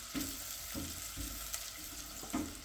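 Onions fry in a pan with a steady close sizzle, broken by a few soft stirring scrapes at intervals.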